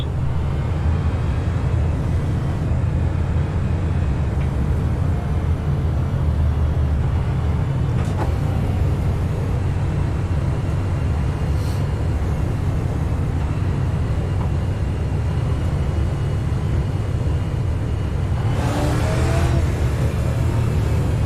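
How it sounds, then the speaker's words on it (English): Race cars in a sim racing video game lap the Nashville circuit, a steady roar of engine and road noise holding throughout with a brief swell of higher-pitched whine near the end. "Race cars coming in this lap."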